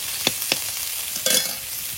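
Nigella seeds and ginger hit hot oil in a wok, giving a soft sizzle with a couple of sharp stirring ticks and a brief louder burst near the end, close and without speech.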